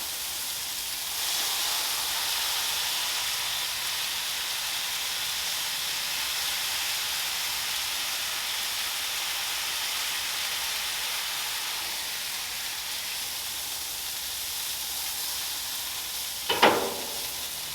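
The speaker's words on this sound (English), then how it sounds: "the burgers are already starting to cook pretty fast right along" Smash burgers sizzle on a Blackstone griddle in a steady, loud, hissing fry that runs unbroken throughout, with a short scrape near the end and no talking.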